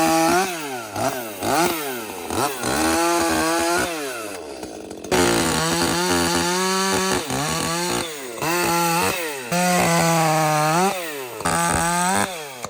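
A ported Echo CS-620PW chainsaw bucks oak rounds, its engine revving hard and bogging as it cuts, then dropping to idle between cuts, loud and close with no talk.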